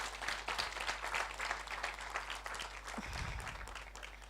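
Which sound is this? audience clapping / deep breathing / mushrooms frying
audience clapping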